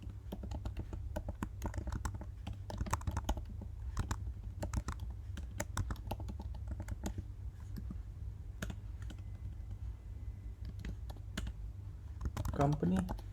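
Typing on a computer keyboard while entering records into iOS app code, a quiet, irregular stream of soft key clicks with occasional faster bursts, heard alone and fairly close.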